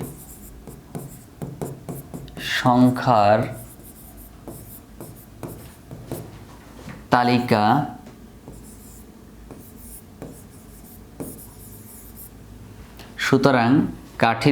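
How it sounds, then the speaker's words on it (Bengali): Hand writing during a class 8 maths lesson on patterns: scratchy pen strokes across paper tick along steadily and close up, interrupted by a few bursts of a person talking. "সুতরাং আমরা এখানে লিখব"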